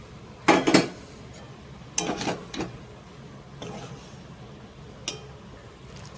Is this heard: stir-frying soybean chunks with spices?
yes